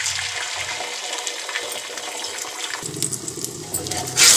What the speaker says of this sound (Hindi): अंडे को इसमें हम डाल देंगे।